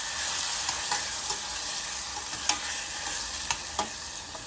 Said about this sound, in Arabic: هنحط الطماطم والفلفل بالشكل ده ونقلب